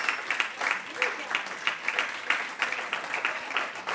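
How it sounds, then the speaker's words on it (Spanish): A church congregation claps loudly during a Sunday service, a dense, continuous burst of many hands with a rhythmic, pulsing edge, close and full throughout. "Denle un aplauso fuerte."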